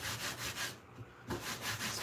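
Paint is rubbed onto a wood carving in short, close brushing scrubs, with a steady rhythmic rasp that pauses briefly midway before resuming.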